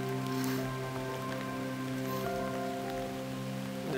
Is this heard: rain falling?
yes